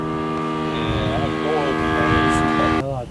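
A Top Flite Cessna 182 Skylane RC model airplane engine drones loud and steady near at hand, holding its pitch before the throttle drops back at the end, with people talking over it.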